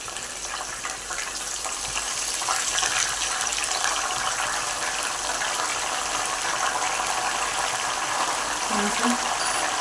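Turmeric and salt water poured into hot oil where raw banana chips are frying, giving a continuous loud bubbling sizzle and hiss that stays steady throughout.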